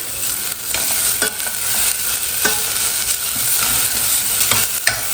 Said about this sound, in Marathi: यामध्ये आपल्याला लसूण आल्याची पेस्ट ॲड करायची आहे आणि दोन मिनटं परतून घ्यायचं आहे